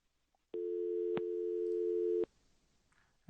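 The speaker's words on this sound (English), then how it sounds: "what you heard was a dial tone" A telephone dial tone sounds after a caller disconnects, a steady electronic hum lasting under two seconds, broken by a couple of brief clicks, then cut off into quiet line noise.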